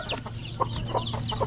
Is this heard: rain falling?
no